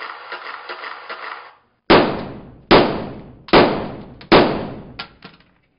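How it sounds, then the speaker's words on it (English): A magazine rack is dragged inside a bathroom, giving a rattling, scraping shuffle for over a second, followed by four loud, sharp bangs at fairly even intervals. "the moving of the magazine rack and the noise that that makes"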